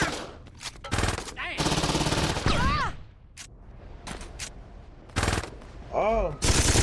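Rapid bursts of automatic gunfire from the video game Saints Row 2, loud and close, alternating with short pauses, with game sound effects and voices mixed in.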